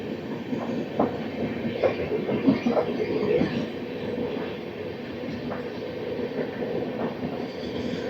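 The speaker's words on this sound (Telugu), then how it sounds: "ఇప్పుడు వచ్చింది కదా ఆ ట్రైన్ వచ్చేసరికి" The Padmavati Superfast Express rolls past with a steady rumble and rhythmic clickety-clack of wheels over rail joints, moderately loud and continuous, heard from on board or trackside with no talk.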